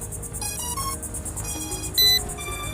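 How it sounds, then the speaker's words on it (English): A Ruko U11MINI 4K drone gives a quick sequence of electronic beeps and chirps at power-up, short melodic tones stepping up and down in pitch, fairly close and clear over a quiet background. "the drone is actually gonna beep"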